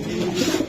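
A racing pigeon gives a low, throaty coo, close and fairly loud, in one short rolling phrase with no voices.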